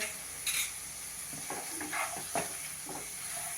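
Coriander rice is stirred in a pan with a spoon, giving a few soft scraping strokes over a faint steady sizzle. The sound is quiet, close and heard alone.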